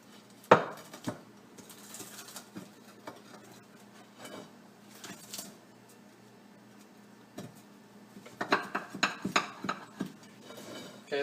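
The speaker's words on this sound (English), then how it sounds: "now we're going to look at the cutability of the pizza here" Knife or cutter scraping and clicking through the hard, crisp crust of a cooked Home Run Inn frozen pizza, with scattered taps early and a denser burst of cutting clatter near the end, close and moderately loud.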